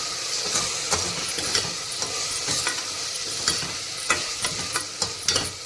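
Chopped tomato with ginger and garlic sautéing in a pan for masala bath, a steady close sizzle and hiss with occasional scraping stirs of a spoon, no talking.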